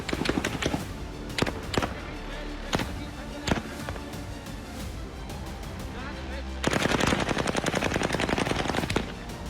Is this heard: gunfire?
yes